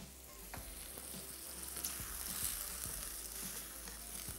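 Masala sizzling and frying in a pan, a quiet continuous crackle with occasional soft stirring knocks and scrapes.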